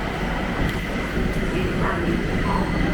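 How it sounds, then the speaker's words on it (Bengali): A train waits at a station just before departing, giving off a steady, loud rumble and hum throughout with faint background activity and no clear voices. "ট্রেন ছাড়ার টাইম হয়ে গেছে, তো হাতে ছেড়ে দেবে এক্ষুনি।"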